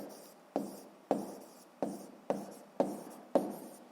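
A pen or pencil writes out a math answer on paper in seven short, evenly spaced strokes, each a soft scratch that fades quickly, close and quiet with no voice.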